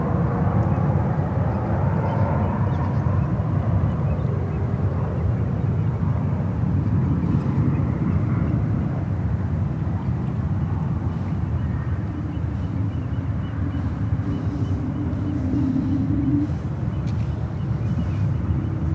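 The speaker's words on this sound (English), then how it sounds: "Porter coming in from Toronto." A Porter airliner arriving from Toronto at San Francisco airport gives a steady, broad jet rumble at moderate distance, continuous throughout with wind noise and no clear talk.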